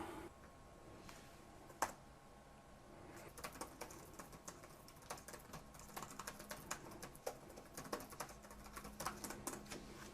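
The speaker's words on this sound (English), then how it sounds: "let's check the typing" Steady typing on an Acer Chromebook Spin 311 laptop keyboard, a rapid run of soft key clicks with a few louder taps, close by and with no talking.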